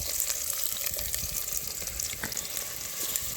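Prawns fry in hot oil with a steady, close sizzle and crackle that runs throughout, loud and continuous with dense popping.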